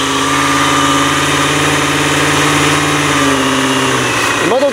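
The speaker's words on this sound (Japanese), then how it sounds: "この音、直四の音をですね一回聞いてみたいと思います。" A Kawasaki ZX250 A2 inline-four motorcycle engine, started with the choke, runs at a steady, smooth idle with a constant low hum and slight vibration, ending with a brief change in pitch.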